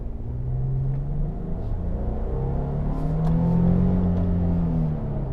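A 2022 Nissan Frontier Pro-4X with a 3.8-liter V6 accelerates through city streets, giving a steady low engine rumble from inside the cab that swells gently as it gains speed.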